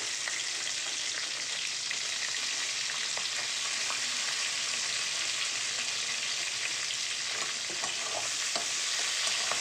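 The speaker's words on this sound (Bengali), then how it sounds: "এবার দিয়ে দিচ্ছি পেঁয়াজ" Chopped onions fry in a hot pan for a chili chicken dish, with a steady, dense sizzle and occasional clicks of a stirring spoon running the whole time, close and continuous, with no talking.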